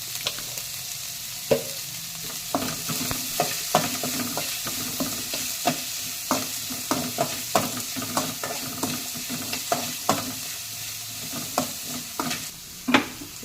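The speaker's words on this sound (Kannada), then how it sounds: "ಈರುಳ್ಳಿಯನ್ನು ಎರಡು ನಿಮಿಷ ಹುರಿದು" Onions fry in a pan for masala curd rice, a steady sizzle broken by frequent sharp scrapes and clinks of a spoon stirring, close and fairly loud with no voices.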